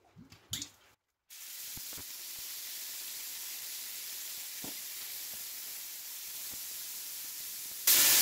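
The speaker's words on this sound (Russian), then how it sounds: "Так, ну и приступаем к обжарке мяса." Meat frying in a pan for Chinese-style fried noodles gives a steady, loud sizzling hiss after a brief clatter and a moment of silence, ending in a sudden louder burst.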